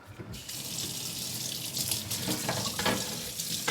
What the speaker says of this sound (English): I usually just take this over to my sink and then just proceed to wash it.